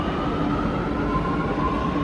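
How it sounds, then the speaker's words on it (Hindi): Steady rumbling ride aboard a Lucknow metro train in the evening, with a continuous even roar and a faint tonal hum running throughout and no voices. "मेट्रो की सवारी"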